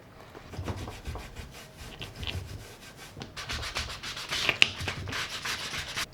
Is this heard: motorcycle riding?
no